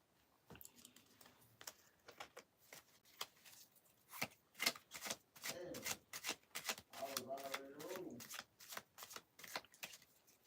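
Tarot cards are shuffled in a quiet room, a run of soft riffling and slapping bursts, close and fairly faint, with brief murmured vocal sounds partway through.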